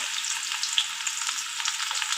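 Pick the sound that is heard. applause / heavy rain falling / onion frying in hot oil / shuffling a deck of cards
onion frying in hot oil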